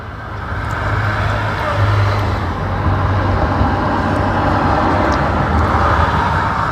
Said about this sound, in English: Can you hear all the traffic going past